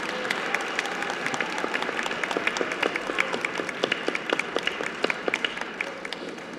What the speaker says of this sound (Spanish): Un aplauso para mi querido Pepe que acaba de llegar.